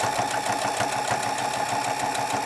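A sewing machine stitches a seam on pajama pants just beside a serged edge, running with a steady, fast mechanical hum and rapid needle pulses, close and continuous with no talk.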